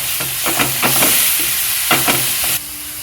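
Asafoetida dropped into hot oil gives a bright, loud, close crackle, broken by a few rhythmic scraping taps of a spoon. The sizzle eases slightly near the end, and nobody speaks.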